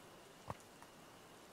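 Quiet, steady rain falls at night in Mineko's Night Market, a soft hiss broken by one brief, sharper knock and a fainter tap soon after.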